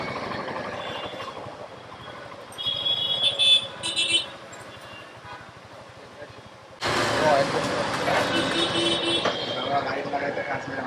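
Roadside traffic, with trucks and cars passing near where people sit talking, gives a steady low rumble that swells as a loud vehicle sweeps past and then holds as continuous engine noise.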